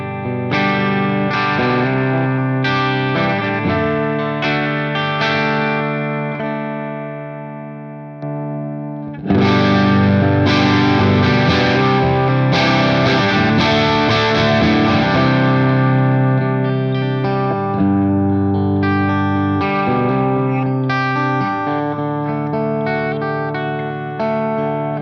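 Electric guitar played through an amplifier's dirty channel with reverb and no pedal, heard as sustained, crunchy distorted chords and ringing notes at a loud, steady level, with a brief gap partway through.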